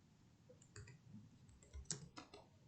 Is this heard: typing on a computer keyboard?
yes